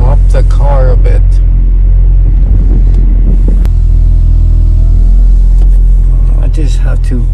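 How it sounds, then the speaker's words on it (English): A van engine turns over and settles into a steady, loud low idle as it warms up, with a deep rumble holding through the whole stretch and voice-like sounds over it. "Let us start the car. Just gonna warm it up a bit."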